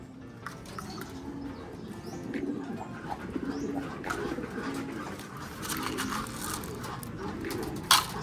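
Pigeons coo softly in a low, repeated murmur throughout, with faint chirps and background rustling, fairly close and without talk.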